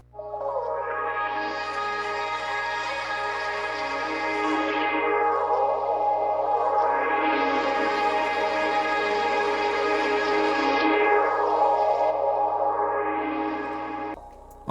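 An evolving atmospheric synth texture from the Aura bank in Arcade swells with a slow, repeating filter sweep rising and falling three times over a steady low drone, alone and effect-heavy.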